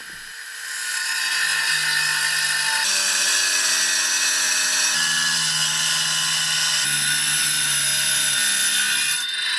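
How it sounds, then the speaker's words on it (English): An angle grinder fitted with a diamond blade cuts a slate tile in half, giving a loud, sustained high-pitched whine and grinding rasp that shifts pitch slightly as the blade works through the stone. "I started cutting one of the tiles in half using an angle grinder with a diamond blade."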